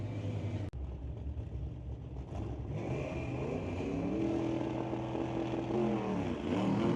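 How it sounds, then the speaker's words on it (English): A drag race car that is having trouble leaving the line lurches off at Mission Raceway, its engine roaring with a rising, wavering pitch as it chases another car, loud and close. "Car lurching around, trying to chase Greg Dawson"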